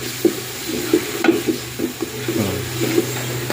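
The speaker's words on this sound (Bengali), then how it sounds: "মশলাটা ভালো করে কষায় নেব" Spice paste with turmeric and coriander fries in a pan as it is stirred, with repeated scraping and tapping of the spoon over a constant sizzle close by.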